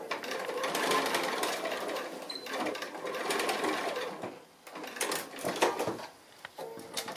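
A sewing machine stitches a fabric cord in short bursts of rapid mechanical whirring, pausing and restarting as the cord is fed through slowly, with light handling clicks between runs.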